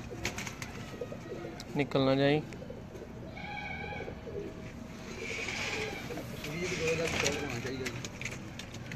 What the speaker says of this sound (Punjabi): ਜ਼ਰਾ ਕਬੂਤਰ ਦੇਖੋ ਜੀ ਕੈਸਾ ਘੜਿਆ ਹੋਇਆ ਕਬੂਤਰ